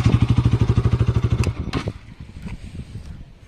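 A Bajaj Pulsar RS200 BS6 motorcycle engine runs with no exhaust fitted, a loud, rapid pulsing idle thump that cuts off abruptly partway through, leaving a few scattered clicks and clatters.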